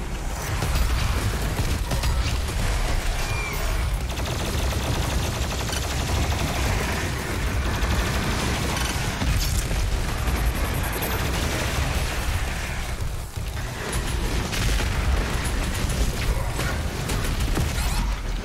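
Rocket launcher bursts and explosions in DOOM Eternal gameplay, a dense, continuous barrage of rapid blasts and mechanical clatter that stays loud throughout without letup.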